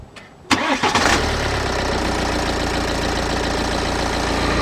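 A BMW E90 3 Series engine cranks briefly and fires up after a belt repair, then settles into a loud, steady idle close by with no squeak and no talking.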